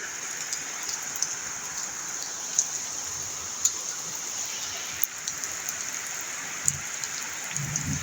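Steady heavy rain pours down at night in a dense, continuous hiss, with occasional sharper drips and splashes standing out nearby.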